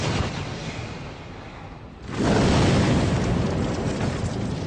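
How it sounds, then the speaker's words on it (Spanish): A torpedo strikes an aircraft carrier at sea in a wartime convoy, a sudden loud blast that swells into a sustained roaring rumble after a hissing lead-in. "Unos segundos después hubo otra tremenda explosión cuando nos alcanzó el segundo torpedo."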